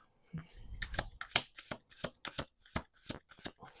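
A deck of tarot-style reading cards being shuffled: a close run of quick, crisp riffling slaps and snaps in an uneven rhythm, with no talk over them.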